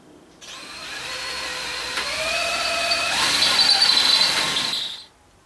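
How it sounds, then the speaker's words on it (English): A power drill bores holes out to 3/8 inch in a jeep hard-top caddy part, a steady high whine with harmonic squeal that rises in pitch and intensity for about four and a half seconds, then stops abruptly. "So I'm going to go ahead and drill the top holes out to 3/8 of an inch."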